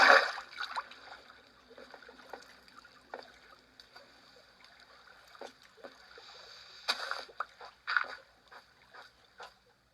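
Splashing water in a Minecraft water cave, heard as scattered faint splashes and light watery flicks over a quiet background, with a louder burst at the start and another near the middle.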